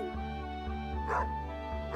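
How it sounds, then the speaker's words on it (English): A stray dog with a collar in the farming game Stardew Valley gives two short yips over steady background game music, the first near the middle and another at the very end. "that's a dog."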